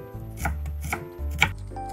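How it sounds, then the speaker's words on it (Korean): A knife slicing onion into thin strips on a board gives steady, evenly spaced chopping knocks, about four close strikes, over a faint tonal background. "양파는 채 썰고"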